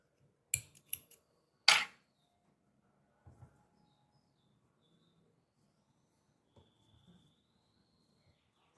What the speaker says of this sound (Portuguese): Agora eu vou cortar o fio.